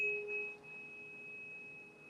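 A faint, pure sustained 417 Hz tuning fork tone rings steadily and evenly, with no other sounds around it.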